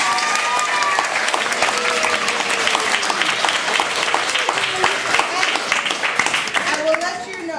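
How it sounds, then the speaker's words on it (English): Loud, sustained audience applause at a fall showcase performance, many hands clapping densely and evenly for over seven seconds, with crowd voices and whoops mixed in. "Throw a round of applause."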